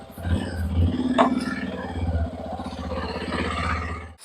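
A Hero Xpulse 210 motorcycle engine catches and settles into a steady, throbbing idle, loud and close, with a brief rattle near the start and a low continuous rumble throughout.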